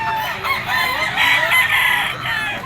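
A young rooster, a stag offered at the Grotto pet market, crows once loudly and close, a single drawn-out call filling the moment.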